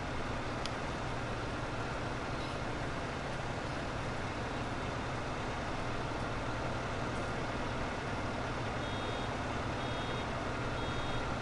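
A vehicle in Farming Simulator, out in the grasslands, makes a steady, loud engine drone with thin, repeated warning beeps sitting faintly above it toward the end.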